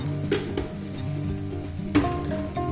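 A spoon stirs chili, turmeric and coriander powder into a soybean curry in a hot pan, with a soft steady sizzle and a few light scrapes and clinks of utensil against the pan.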